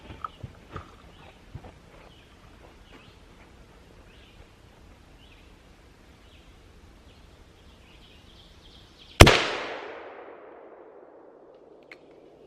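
One very loud, sharp large-caliber handgun shot rings out after quiet outdoor rustling and light taps, its boom decaying over about a second.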